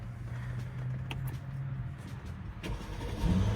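A 2017 Mercedes-Benz GLS550's 4.7-litre twin-turbo V8 cranks and catches, then settles into a low idle with a brief rise in revs near the end, heard close by.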